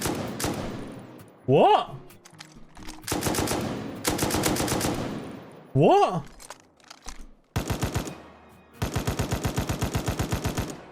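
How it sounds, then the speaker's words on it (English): Rapid automatic gunfire from the SAR rifle fitted with a muzzle brake in the video game Rust, several loud sustained bursts broken by short pauses, with someone speaking briefly between them. "Why does it sound like an M2 all of a sudden? So apart from this gun sounding exactly like an M249 whenever you add a muzzle brake"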